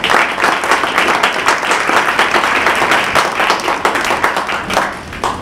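Loud, enthusiastic clapping from an audience gathered for an ethics week talk on transfer pricing. It is dense and sustained with individual claps standing out, then thins out toward the end.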